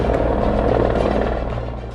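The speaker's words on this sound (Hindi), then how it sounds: "यूनिट के हेलीकॉप्टर्स 1978 से ही यहां उड़ान भरने लगे।" Indian Air Force military helicopters flying over the Siachen glacier make a loud, continuous rotor and engine drone that fills the whole moment and eases slightly toward the end.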